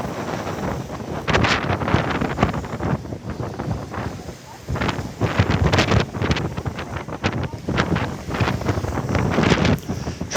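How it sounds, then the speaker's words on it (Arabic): Sea wind gusts along the Alexandria corniche at sunset, buffeting the microphone in loud, uneven rumbling bursts, with a faint wash of calm sea beneath. "والبحر هادي جميل، والهواء البحر الجميل."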